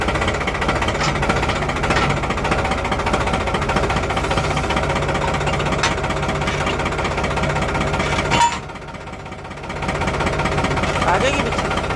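A motorbike engine runs close by with a loud, steady, rapid chugging rumble that dips briefly before picking back up, heard alone without talk.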